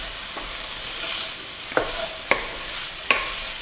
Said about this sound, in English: Keep mixing it.